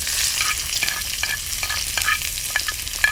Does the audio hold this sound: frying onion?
yes